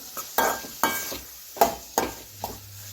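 A spoon scraping and knocking around a pan of bitter gourd thokku, about six distinct strokes in a loose rhythm, close and fairly quiet with a faint sizzle underneath.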